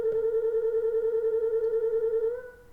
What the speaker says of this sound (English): And with a low pitch, it sounds like this.